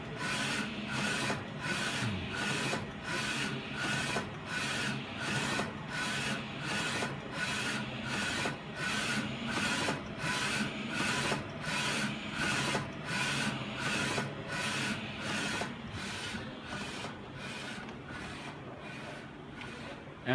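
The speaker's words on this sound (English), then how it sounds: "And this is our A2 size printer" A2-size flatbed printer laying down white and colour ink on phone cases, its print head sweeping in a steady, fast rhythm of regular raspy passes that repeat throughout at close range, with no other sound over it.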